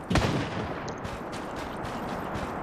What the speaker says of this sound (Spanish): Un disparo por los contenedores por allá,